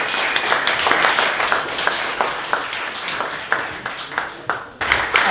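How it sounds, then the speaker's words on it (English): Applause from the audience at a Berlin blockchain hackathon event, a steady wash of many hands clapping with a few sharper claps standing out, fairly loud and continuous throughout. "let's give it a round of applause again"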